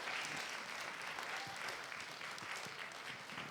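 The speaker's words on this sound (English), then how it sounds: "Can you give Mr. Tony Bryan a round of applause" Audience applauding a poet at a Black History celebration, continuous dense clapping from a crowd in a room, fairly steady and close, with faint voices mixed in.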